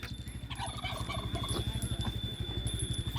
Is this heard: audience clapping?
no